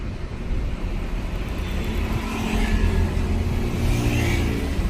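A car engine running during a driving lesson as the car creeps slowly backward, a steady low rumble and hum with slight swells in revs, close and continuous, no talk.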